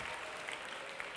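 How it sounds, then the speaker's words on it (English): Faint, steady crowd applause at a conference session, a brief distant wash of clapping with no distinct individual claps. "I also wanted to ask for a round of applause for my birthday"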